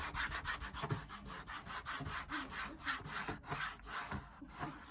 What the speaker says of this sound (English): So if we just keep going over that same bit, rubbing it nice and hard.